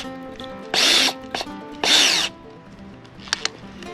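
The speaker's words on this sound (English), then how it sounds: "I'm going to be using the weed spinner attachment to put on my drill." Power drill being tightened onto a WeedSpinner attachment gives two short, loud whirring bursts about a second apart, followed by faint clicks and handling noise.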